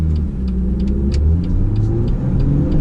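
A car's exhaust rumbles steadily with a low, throaty idle and slight revving, close and loud, with faint ticking above and no voices.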